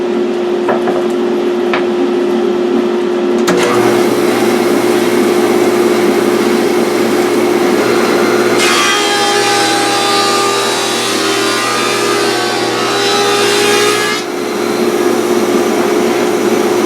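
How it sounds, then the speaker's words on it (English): Copper beech board running through a planer: a loud, steady whine and roar with a sustained hum, and the cutting noise swells as the wood feeds through. "let me get this back in the planer and trim this down"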